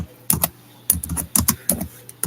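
Someone types on a computer keyboard: quiet, close clusters of sharp key clicks in short irregular bursts separated by brief pauses.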